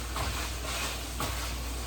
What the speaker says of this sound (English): Now you hear all that sizzle.